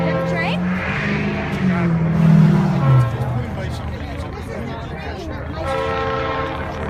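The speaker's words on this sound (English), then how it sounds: "If we wait long enough, the train will come." A train rolls through at Route 346 in Pownal, Vermont, sounding a loud, sustained horn with rising and falling tones while rail noise rumbles underneath and people talk nearby.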